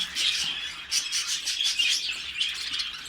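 Budgerigar chicks in a breeding setup chirp in a continuous run of thin, high-pitched tweets, close by and fairly steady, with no talking.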